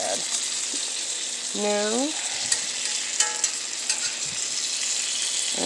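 Leftover chicken fries in a pan with a steady, quiet sizzle, broken by a few clinks of utensils and a brief spoken word.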